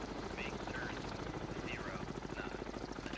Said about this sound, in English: Now I know that once again this is a Russian helo.